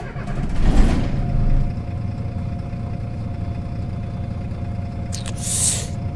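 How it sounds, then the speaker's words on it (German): A MAN NL 223 city bus engine in the OMSI 2 bus simulator cranks and settles into a steady mid-pitched diesel idle, with a brief hiss near the start and another near the end. "wir werden jetzt den Motor aktivieren"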